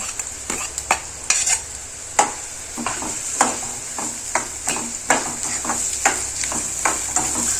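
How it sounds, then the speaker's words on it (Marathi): Onion frying in oil after cumin and mustard seeds for a Nagpuri Saoji patwadi curry: a soft steady sizzle broken by repeated sharp spatula scrapes and taps against the pan, close up with no talk. "आणि कांद्याला हलकं ब्राऊन होईपर्यंत भाजायचं."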